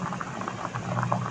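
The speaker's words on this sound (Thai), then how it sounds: "อันนี้ต้มอยู่เนาะ" Offal boiling in a pot, a brief stretch of continuous close bubbling and soft popping at an even level.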